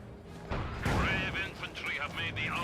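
In Company of Heroes 2, a grenade goes off with a sharp blast and gunfire crackles after it, all loud and close. A caster talks over the combat.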